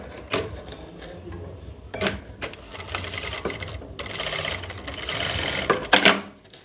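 A sewing machine stitches pleats into a sleeve, its needle running in short bursts and then a longer steady rattle, close and clear with no talking.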